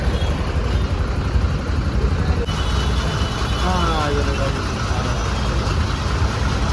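Early-morning traffic at a Bangalore bus stand, a steady loud rumble of idling buses and vehicle engines with occasional horn-like tones, continuous throughout and close by.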